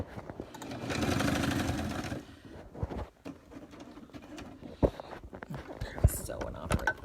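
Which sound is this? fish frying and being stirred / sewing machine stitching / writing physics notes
sewing machine stitching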